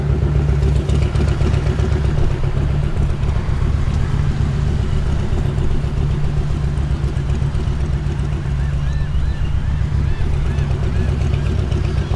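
Steady engine drone and rumble from cars moving slowly in and out of a parking lot near the Galveston Pleasure Pier in Texas, loud and continuous, with faint clatter and no clear voices.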